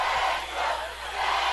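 A crowd at a high school football game cheers and roars in a broad, steady swell that rises and dips, heard from a distance without any clear voice.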